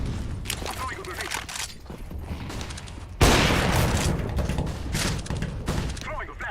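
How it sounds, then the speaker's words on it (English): Grenade blast in a video game, a sudden loud burst midway through under steady gunfire, with a player talking throughout. "I'm throwing a grenade."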